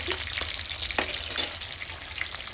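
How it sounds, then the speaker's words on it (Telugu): An egg fries in a pan with a steady close sizzle and fine crackling, a few brief pops rising above the hiss, and no one talking. "అయితే గుడ్డు ఫ్రై చేస్తుంది అత్తమ్మ"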